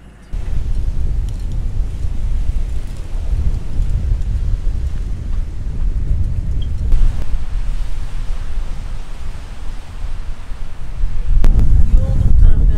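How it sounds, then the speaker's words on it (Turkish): Strong stormy wind buffets a campsite, a loud continuous low roar with gusts that swell louder toward the end, heavy and steady throughout. "Yani bu rüzgarda durmak imkansız."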